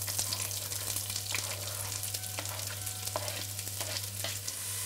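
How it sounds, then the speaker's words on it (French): Onions fry in a little oil over high heat for a Creole shrimp and coconut milk curry, a steady bright sizzle with crackles and occasional stirring clicks over a low hum, close by and without speech. "on va déjà mettre un petit peu d'huile pour faire revenir nos oignons"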